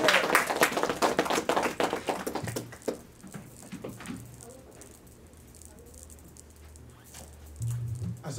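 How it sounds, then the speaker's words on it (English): Audience applause greets Brother Johnathan Muhammad, a student assistant minister, at a religious gathering: dense clapping for the first few seconds, then thinning to scattered claps and room murmur with low voices underneath. "with a warm round of applause"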